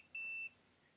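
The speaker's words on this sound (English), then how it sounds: "let's just check continuity again" Multimeter continuity check on a fried ESP32 dev board gives one short, clean electronic beep lasting about a third of a second, close and fairly quiet against faint room background.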